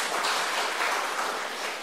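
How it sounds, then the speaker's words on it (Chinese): An audience at a lecture held at a school claps together in a dense, even burst of applause that keeps a steady level from start to finish. "掌声鼓励一下"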